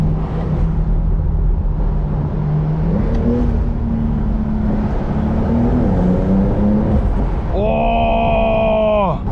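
A Porsche 911 Turbo S tuned by Brabus to 820 HP drones loudly from inside the cabin while driving, its engine pitch climbing and easing through gear changes before a sharp rise to a higher, harmonic-rich roar.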